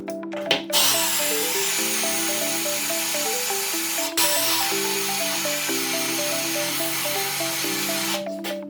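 A power drill grinds continuously into tile with a high, rasping whine while water is sprayed on it, briefly pausing midway before resuming.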